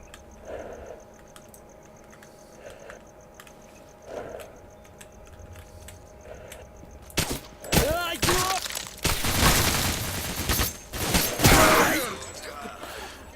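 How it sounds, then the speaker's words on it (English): A shotgun blast in the video game Misery, a loud cracking shot followed by a burst of shattering and clattering impacts after a quieter stretch of faint ticking. "That was called a shotgun blast to the face."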